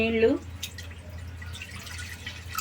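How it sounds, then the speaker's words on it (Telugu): Water is poured into a pressure cooker on a stovetop as part of an egg curry recipe: a short splashing trickle and dripping, close by, heard under a speaking voice. "కొంచెం నీళ్లు పోసుకున్నా."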